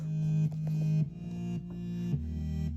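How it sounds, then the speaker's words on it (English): A deep sub bass sits under layered bass synthesizers in a song instrumental, with a run of sustained low notes shifting pitch every half second or so, the lowest rumble thickening toward the end. "So I also added a sub bass,"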